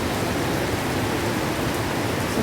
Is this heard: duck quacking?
no